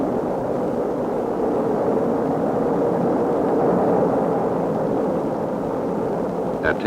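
Titan II rocket lifting off with the Gemini 4 spacecraft, a loud, steady broadband roar that holds evenly throughout without a break.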